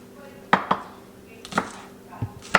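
A knife chops green onions into tiny pieces on a board: several sharp, distinct strikes in an uneven rhythm, close and fairly loud, with quiet gaps between them.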